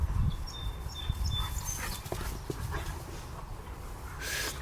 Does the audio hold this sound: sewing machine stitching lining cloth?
no